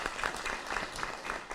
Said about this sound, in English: Can we just give her one round of applause for that?